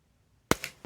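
A Tokyo Marui Glock airsoft pistol fired on a CO2 magazine gives one sharp, loud pop close by, followed by a brief rattle of the slide and a second softer knock.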